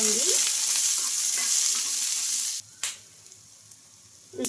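Green chillies, ginger and garlic fry in oil with a loud, dense sizzle and stirring. The sizzle then drops to a quieter hiss, cut by a few sharp scrapes.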